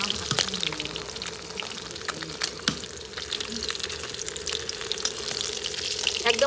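Fish frying crisp in a pan in a home kitchen, giving a continuous sizzling hiss with scattered crackles and pops, under a steady hum with occasional clinks.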